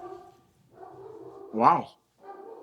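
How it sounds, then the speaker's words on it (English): A single German Shepherd bark cuts in briefly over steady conversation, loud and close, then talk carries on. "the dogs are going crazy"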